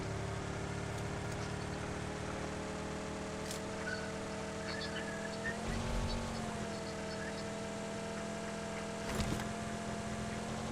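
A vehicle engine drones steadily in the PUBG video game, a sustained mid-level hum with a brief surge in revs twice, while players talk faintly in the background.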